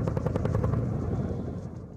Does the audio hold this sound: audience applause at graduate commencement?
no